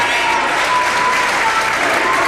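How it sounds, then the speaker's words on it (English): A crowd at a 1998 Massachusetts state tournament high school basketball game, Revere at Arlington, gives a loud, steady ovation as players check out, sustained applause throughout. "Phil Barlow, Mike Cristoforo, and Neil Samad check out of the lineup to a nice ovation from the crowd."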